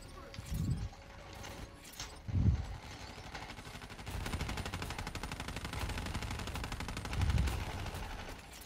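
Gunfire in Black Ops 3 on realistic mode: sustained rattling automatic bursts with a few heavy thumps, fairly close but moderate in level, with some mechanical clatter mixed in.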